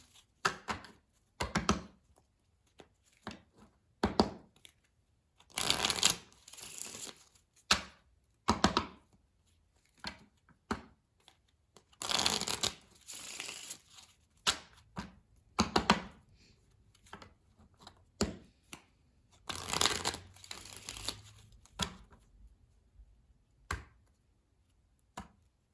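Sailor Jerry tarot cards being shuffled, giving bursts of crisp riffling and tapping with quiet gaps between, close and fairly soft with no voice.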